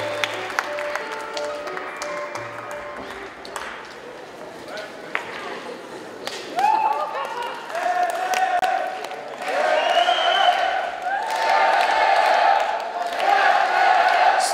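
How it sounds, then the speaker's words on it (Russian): An audience at a student talent show applauds and cheers a performer, with clapping and crowd noise building in the second half amid talk. "Аплодисменты Даяну."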